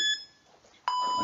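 Workout interval timer beeps: a tone at the start fades out, then after a short gap a loud, steady electronic beep sounds close by and holds.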